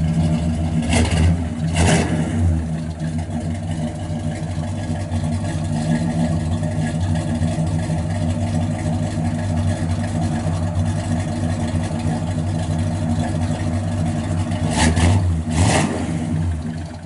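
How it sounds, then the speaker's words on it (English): A 1967 Pontiac GTO idles with a deep, throaty rumble through its dual exhaust, revving up sharply a couple of times at the start and again near the end. "Got a nice dual exhaust out the back"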